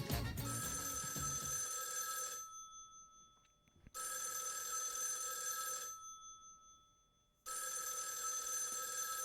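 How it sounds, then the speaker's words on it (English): Public telephone in the Raidou Remastered video game ringing with a bright, continuous bell trill in long rings separated by silent gaps, three rings in all. "Telephone is ringing."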